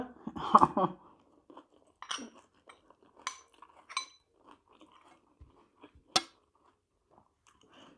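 Spicy canned fish salad eaten with rice gives sparse, close crunchy chewing and bites, with a few light clinks of a spoon against a dish in an otherwise quiet room.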